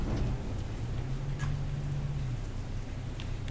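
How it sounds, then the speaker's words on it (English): Rain falls outside and comes through open windows as a steady, diffuse hiss and patter, with a low indoor hum underneath and a couple of faint ticks, continuous and even. "If it sounds like it's raining, it actually is"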